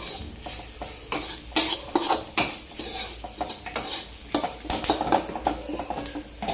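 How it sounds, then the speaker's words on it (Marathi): Garlic and curry leaves sauté in hot oil for a tempering in a quick village-style brinjal dish. A close, steady sizzle runs under repeated spoon scrapes and clinks against the pan, with no voices. "लसूण आणि कढीपत्ता हा देखील छान याच्यामध्ये परतू आहे"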